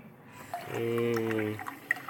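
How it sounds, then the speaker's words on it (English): Cold water poured from a tap into a cooking pot, a short steady rush of splashing liquid lasting under a second, close and moderately loud, with a faint voice around it. "I use cold water before I boil it."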